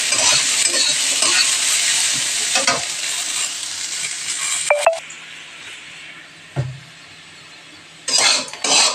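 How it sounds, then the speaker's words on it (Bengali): Cashew nuts frying in a pan, a steady close sizzle with stirring scrapes and occasional clinks of a utensil against the pan, pausing briefly near the middle before resuming. "কাজু বাদাম একটু ভালো করে ভেজে নেব।"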